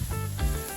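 Small potatoes and fried peanuts sizzle in a hot pan, a short steady hiss of frying with a brief stir midway.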